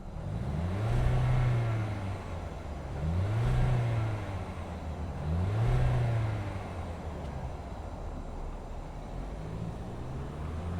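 A 2025 Volkswagen Jetta SEL runs after starting, its engine rising and falling through three moderate revs before settling into a quieter steady hum, heard at a distance.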